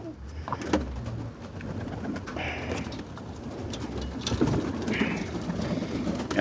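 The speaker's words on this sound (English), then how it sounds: "these are my kit birds" Roller kit pigeons coo softly and steadily at close range on a rainy morning, with rain patter and light rustling underneath throughout.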